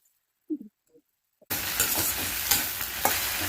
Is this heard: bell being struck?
no